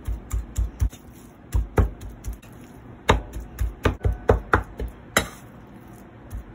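Shrimp meat chopped into small bits on a board for shrimp patties, a rapid run of sharp, close knife strikes in uneven bursts with no talking.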